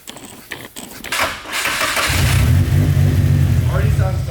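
A Suzuki SRZ motorcycle engine revs up after carburetor adjustment, starting from a rough sputter and then holding a loud, steady, close roar with throttle blips, while a voice talks briefly early on.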